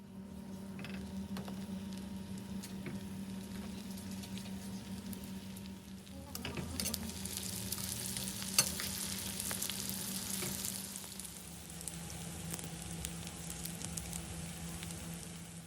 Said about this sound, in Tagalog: Sunod naman na nagpainit na ako ng mantika at ipiprito naman natin ito.